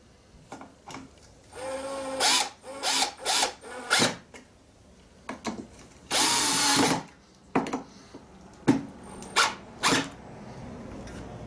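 Power drill driving screws into wood while locking down a sand-casting mould box; short, loud bursts of whirring repeat at irregular intervals, with ratcheting clicks and brief pauses between them.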